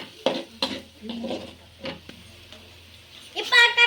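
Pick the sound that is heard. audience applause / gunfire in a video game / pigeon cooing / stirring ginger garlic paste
stirring ginger garlic paste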